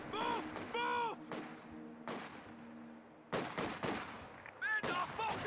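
Artillery and gunfire in Company of Heroes 2, sharp booming blasts and rattling bursts with decaying tails, several shots spaced over a few seconds, loud against in-game soldiers' shouted voices.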